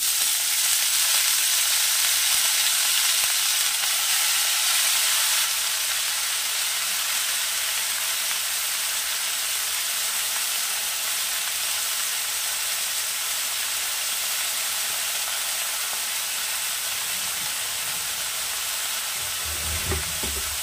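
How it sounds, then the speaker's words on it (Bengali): Chopped bathua (bethua saak) greens hit a hot pan with a steady, bright sizzle that carries on evenly throughout, with a faint low rumble of stirring near the end and no talk. "এবারে দেব কুচি করে রাখা শাকটা।"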